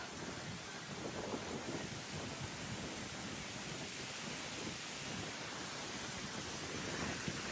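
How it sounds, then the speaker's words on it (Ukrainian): Strong, steady wind roars and buffets continuously at a beach at low tide, a dense rushing noise with no voices. "Тут завжди біля пляжу такий вітрюган"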